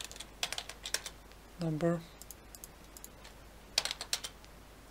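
Keys tapped on a computer keyboard while writing in Unreal, in short quick bursts of clicks separated by pauses, with a brief spoken word partway through.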